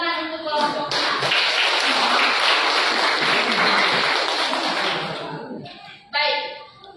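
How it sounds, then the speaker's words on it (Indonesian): Classroom applause for a student group in a university lecture, dense clapping from many hands lasting about five seconds before fading, followed by a brief burst of talk. "Baik, tepuk tangan untuk kelompok 6"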